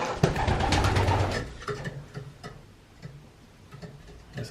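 Kittel pigeons cooing softly in a loft, a low rolling coo up front giving way to scattered quieter calls and faint ticking sounds, close by with no talking.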